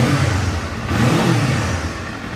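A 2024 Kawasaki Z500 SE motorcycle engine revs up from a steady run, a loud, close, continuous engine roar that swells once before easing slightly, with no talk over it.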